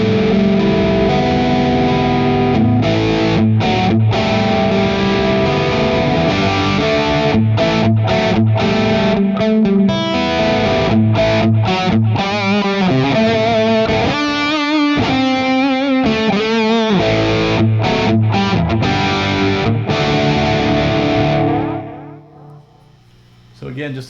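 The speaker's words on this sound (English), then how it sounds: "just the guitar straight to the amp" An electric guitar plays straight into an overdriven Mesa Boogie Stiletto Deuce tube amp, with chords and lead lines for about twenty seconds before the sound cuts off.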